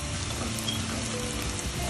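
Sticky rice with mung bean frying in a little oil in a pan, giving an even, close sizzle that runs without a break, with no talk.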